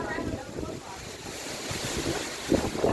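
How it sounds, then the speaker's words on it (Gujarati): Strong wind buffets the microphone with a low rumbling roar and broad rushing noise, gusting louder near the end. "કેવો પવન આવે"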